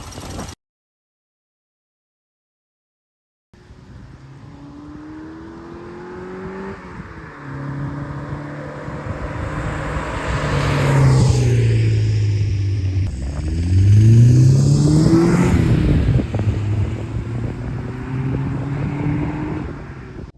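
A 1981 Subaru GL (Leone) with a swapped EJ22 engine drives by, its engine note rising as it approaches and revs, peaking loudly mid-pass with a swooping pitch change, then settling as it pulls away, with no talking.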